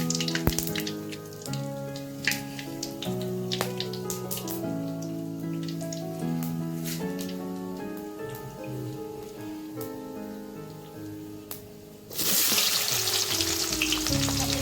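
Whole spices fry in hot mustard oil with a crackling, popping sizzle and scattered clinks of a utensil, then a sudden louder, hissing rush of frying near the end, close and without speech.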